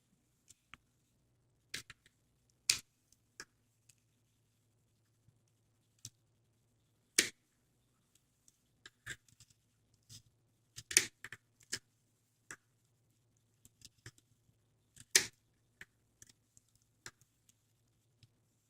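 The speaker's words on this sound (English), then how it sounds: "you do need to cut to the end of the folds" Scissors snip through plastic bags being cut into strips for plarn, giving sparse, sharp clicks and crisp cuts in irregular bursts over a faint low hum, with no talking.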